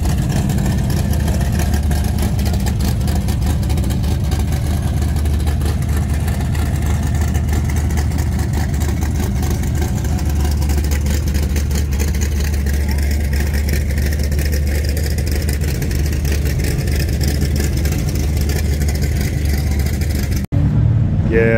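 A loud Can-Am Ryker three-wheeler at an outdoor car show rumbles at a heavy, steady idle close by, with occasional swells of revving, while people talk in the background; the engine note cuts out near the end.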